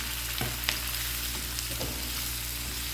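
Green banana pieces being stirred and sautéed in a pan over softened aromatics, giving a loud continuous frying hiss with a few spoon scrapes, close and without speech.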